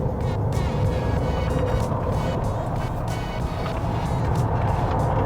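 A GWM Ora 07 Performance electric car at speed on the Sepang International Circuit race track, giving a steady loud rush of tyre and wind roar under heavy braking, with no voices.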